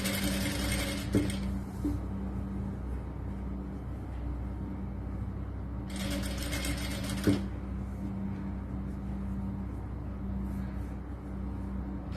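A sewing machine runs steadily while stitching lining cloth onto the neck of a churidar top, a continuous mechanical whir with two brief louder bursts, close and alone without talking.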